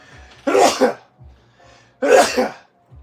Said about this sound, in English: it's a loud sneeze.